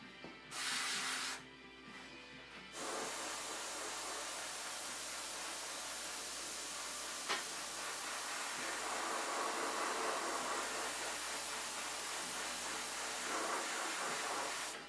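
Light airbrush-style paint spray misting lemon yellow over a titanium gold finish, a steady close hiss running almost without break, with a short pause near the start.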